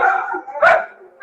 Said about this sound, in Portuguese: Olha os cachorros.